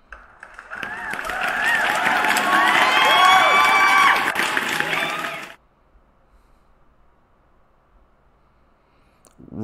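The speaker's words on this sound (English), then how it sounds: "let me give everybody else a round of applause, guys" A crowd cheers and claps loudly for about five seconds, a dense burst of whoops and applause that cuts off abruptly into near silence.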